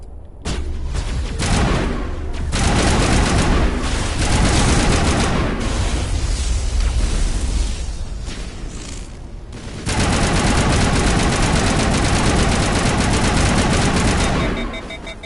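Sniper rifle and shotgun gunfire in the Mass Effect Legendary Edition video game, a loud, dense stretch of rapid overlapping shots and booms that dips briefly before resuming at full intensity.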